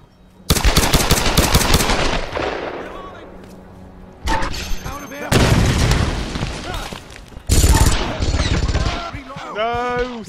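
Minigun fire in Tomb Raider multiplayer, several loud, rapid bursts separated by short pauses, each a dense rattling stream with booming impacts, a voice speaking between them.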